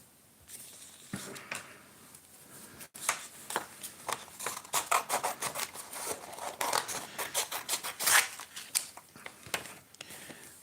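Scissors trim paper stamp album pages, giving a run of crisp snips and rustling scrapes. The cuts come close and fairly loud in an irregular rhythm, with no talking.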